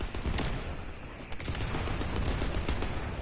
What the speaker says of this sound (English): The specialized Vulgus aircraft has stopped to resupply. It's defenseless. Shoot it down.